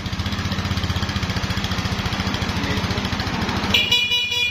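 Rusi Macho 175 motorcycle idles with a steady rapid engine pulse, then its horn sounds near the end as a bright, loud beep over the running motor.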